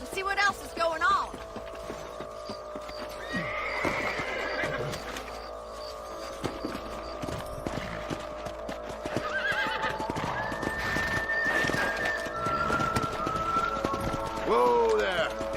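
Horses whinny and snort amid clip-clopping hooves and busy game ambience in Red Dead Redemption, with voices talking intermittently over the scene.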